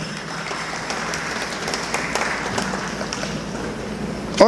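Audience applause at a political parties award ceremony, a steady broadband wash of clapping that holds evenly for several seconds at moderate level before a short louder burst at the very end.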